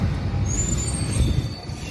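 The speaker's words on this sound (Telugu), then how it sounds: "Right now train Katpadi junction departure అయింది." The Seshadri Express pulls out of Katpadi junction, heard from on board as a steady low rumble with thin, high wheel squeals drifting above it.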